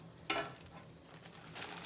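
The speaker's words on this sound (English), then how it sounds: "Here we go into the boiling water, which I already had boiling." Garlic mustard leaves are dropped into already boiling water and stirred for blanching; one quick splash is followed by a brief bubbling, hissing wash, close and short with no talking.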